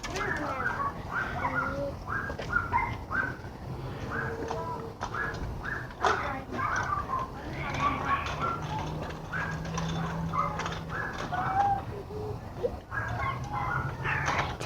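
Doves coo in soft low repeated calls among scattered bird sounds nearby, with voices and household noise mixed in.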